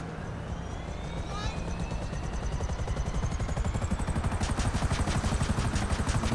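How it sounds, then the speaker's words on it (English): A heavily armed helicopter in GTA 5 Online, its rotor thumping in a steady rhythm that builds and grows louder over several seconds, with an engine whine above it. "I'm getting into a heavily armed helicopter."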